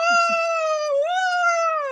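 A cat gives one long, drawn-out meow, clear and close, its pitch dipping briefly in the middle before rising again, with two faint soft sounds just before.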